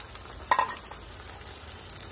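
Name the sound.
chicken mince added to pan, frying and sizzling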